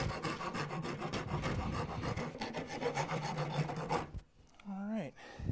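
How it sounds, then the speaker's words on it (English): A rasp files a wooden spoon in rapid, steady rubbing strokes, loud and close for about four seconds, then stops as a voice speaks briefly. "I'm gonna do the rasp now."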